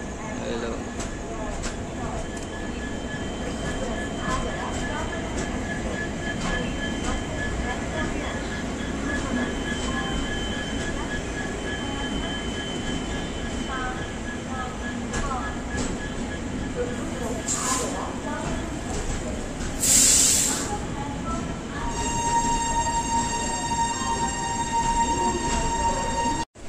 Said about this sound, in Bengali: আমার ট্রেন এনজিবি থেকে ছাড়লে গেল